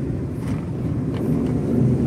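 A Suzuki DA17V mini van with a 660cc R06A engine and five-speed manual drives on a test run, its low engine drone and road rumble steady and close from inside the cabin.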